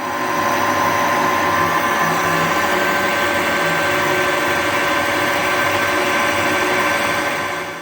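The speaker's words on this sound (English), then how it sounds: "I'm going to cut down and then chuck it in the lathe, spin the ends up to size" Steel tube ends spun to size in a metal lathe during custom Triumph bobber frame fabrication, giving a steady, loud mechanical whir and hum that runs unbroken throughout with no voices.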